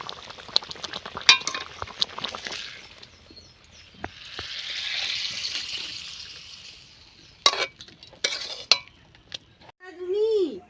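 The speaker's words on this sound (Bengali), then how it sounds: "আর মিনিট 5 জন্য একটু ফুটতে দিচ্ছি।" Green banana kofta curry gravy simmers in a pot with a soft bubbling hiss, broken by sharp clinks of utensils against cookware, and a brief voice is heard at the very end.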